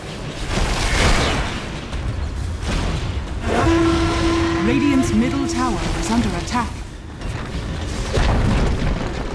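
A tower crumbles in the Dota 2 video game, with deep booming crashes rolling over steady battle noise while a voice speaks over the top.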